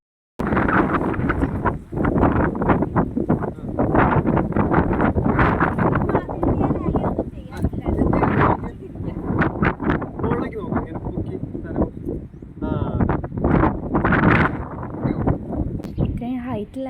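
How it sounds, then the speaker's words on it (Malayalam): Strong wind buffets the microphone at a hilltop viewpoint in the Philippines' Hundred Islands, a constant loud roar and rumble through the whole stretch, with people talking over it. "ഇത്രയും ഹൈറ്റിലായതുകൊണ്ട് തന്നെ നല്ല കാറ്റുണ്ടായിരുന്നു"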